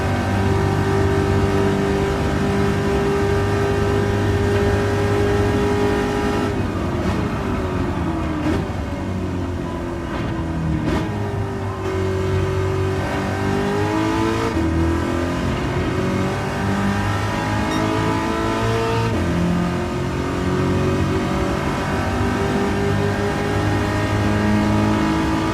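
Race car engine in the Gran Turismo video game, a car close to Group 4 class, accelerating and revving continuously at high volume, its pitch rising and dipping through gear changes, with no talk over it.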